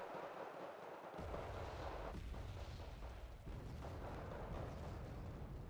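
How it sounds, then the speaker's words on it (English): Rocket artillery strikes in the Wargame Red Dragon video game, a dense rumbling barrage of blasts and crackling impacts that begins abruptly and rolls on steadily at a distance, with no talking. "Another rocket strike."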